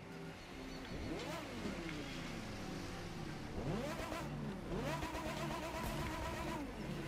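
A Porsche Carrera GT engine from the racing game The Crew 2 revs repeatedly, rising and falling in pitch through several steady pulls, with a loud, continuous game-engine drone throughout.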